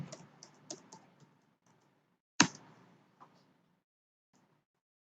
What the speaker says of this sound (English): if I try and type the same IP here